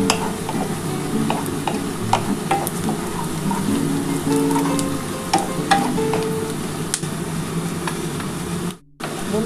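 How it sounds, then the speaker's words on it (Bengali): Sliced onions fry in hot oil for egg chicken biryani, a steady close sizzle with intermittent spatula stirring and scraping, cutting out abruptly near the end. "বন্ধুরা দেখো, আমার কিন্তু পেঁয়াজটা কিন্তু ভাজা হয়ে এসছে"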